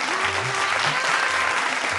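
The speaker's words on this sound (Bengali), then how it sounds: "জোরে হাততালি" Loud studio-audience applause on a Bengali family quiz game show, a dense, even wash of clapping running throughout, with a faint voice underneath.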